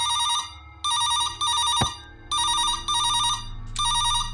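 A telephone rings repeatedly in a video game, a bright electronic trill sounding in four bursts with short gaps between them, loud and close, with no talking.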